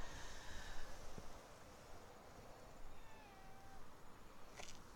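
A pet cat meows faintly with a thin, drawn-out call in an October garden, set against a steady outdoor background hiss.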